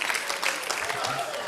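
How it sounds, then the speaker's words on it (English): A room of people gives a short, steady round of applause for Dexter at a community MLK Day event, the clapping dense and continuous with a voice briefly speaking underneath. "Big round of applause for Dexter"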